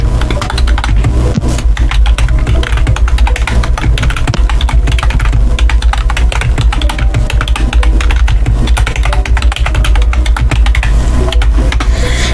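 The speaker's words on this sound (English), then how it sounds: "And typing intensifies." Fast, steady typing on a computer keyboard, loud and close, with dense clicking keystrokes running continuously for about twelve seconds.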